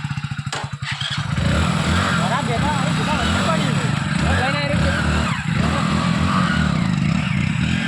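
A motorcycle engine idles and runs steadily up close, a loud continuous rumble, with people talking over it.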